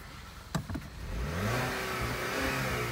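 A 2018 GMC Terrain SLE engine revs up to its rev limiter, a couple of clicks then a rising, sustained mid-pitched engine roar that holds near the limiter, close and loud.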